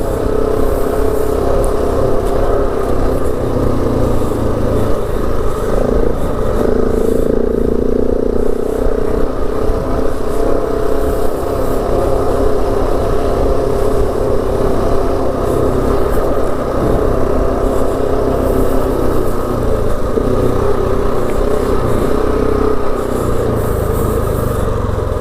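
A KTM 690 motorcycle cruises at 60 km/h across the Simpson Desert, its engine droning steadily and loudly with wind noise throughout and no talk.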